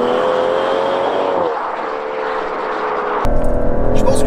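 An Aston Martin DBS Superleggera with a 725 hp engine accelerates, a steady engine drone dropping briefly before a louder surge of power near the end, heard from inside the car.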